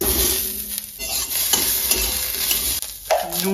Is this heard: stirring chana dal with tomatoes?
yes